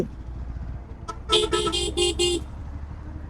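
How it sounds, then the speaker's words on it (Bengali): Car horns honk in a road traffic jam near Mohanpur bridge in Dinajpur: a burst of five short, loud toots in quick succession over a low, continuous rumble of vehicle engines. "গাড়ি ঘোড়ার যে অবস্থা যেখানে জ্যাম লেগে গেছে"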